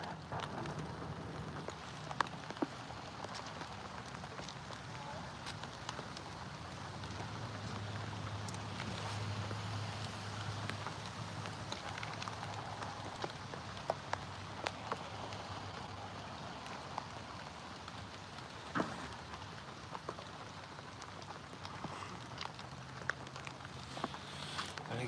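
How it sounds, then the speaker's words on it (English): Steady rain falls outdoors during a live fishing derby below river locks, a continuous soft patter with occasional light knocks, heard alone without talk. "That rain's picking up again."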